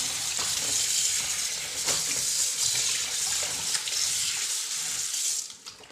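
Water pours and splashes steadily while a dyed dupatta is rinsed in a basin. The flow is close and continuous, then cuts off just before the end.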